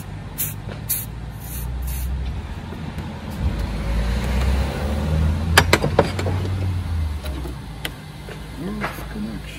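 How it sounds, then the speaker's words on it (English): Anti-stick spray from an aerosol can in a small home workshop, a steady hiss lasting several seconds under low rumbling background noise, with a few sharp clicks and taps around it. "Remember to spray some anti-stick."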